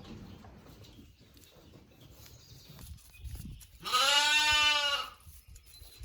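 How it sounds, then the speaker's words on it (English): Katahdin hair sheep bleating once on a farm, a loud, wavering, drawn-out call about a second long, close by, over soft background ambience. "Our sheep are Katahdin sheep, hair sheep, so they naturally shed."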